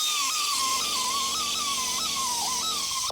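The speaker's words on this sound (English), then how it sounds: "I think I'll get my die grinder and try to take the head of the bolt off" A high-pitched electric die grinder whines steadily and loudly, its pitch wavering slightly as it bites into a bolt head on a 1986 Chevrolet Monte Carlo SS 305 engine, running continuously before cutting off abruptly.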